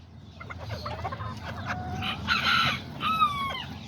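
Kikiriki roosters cluck and give short crowing calls close by, several overlapping bursts over a low background hum.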